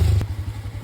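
Motorcycle ridden over a damaged, potholed dirt road, its low engine drone steady and close, broken by a sharp clattering thump from the rough surface early on.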